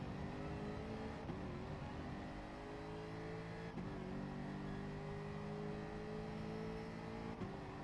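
A car engine holds steady near the rev limiter, with abrupt shifts cutting in around 1.2, 3.7 and 7.4 seconds as it jumps through the gears, loud and continuous throughout.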